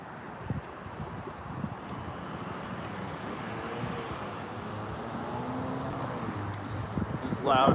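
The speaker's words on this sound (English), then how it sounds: "loud truck behind me right now." A loud truck passes on the road behind a walker, its engine and tire roar building steadily into a broad rumble with wind buffeting the microphone, a voice speaking over it.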